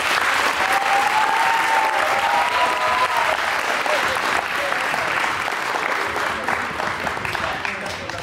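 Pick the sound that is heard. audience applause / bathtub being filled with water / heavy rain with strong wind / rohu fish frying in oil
audience applause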